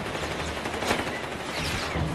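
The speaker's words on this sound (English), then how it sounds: "这个重机枪对步兵的压制效果特别猛。" An MG34 heavy machine gun in Company of Heroes 3 keeps up dense, continuous automatic fire. The bursts mix with the wider battle noise throughout and hold steady and fairly loud, with no talk over them.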